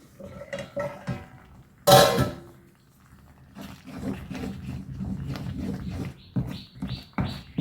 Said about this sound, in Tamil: இப்போ மூடியை திறந்து பார்ப்போம்